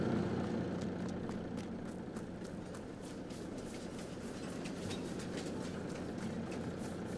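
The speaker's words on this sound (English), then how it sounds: "If this darn train would hurry up and get here." A train pulls into a station in Farming Simulator on the new Texas map, a steady low rumble of engine and rolling railcars that holds even and moderately loud throughout.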